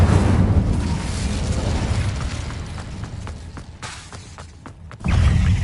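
The Bombarda explosion spell from Hogwarts Legacy bursts as a heavy, loud boom with a rumbling low tail, then fades into scattered thuds and debris before another deep blast erupts near the end.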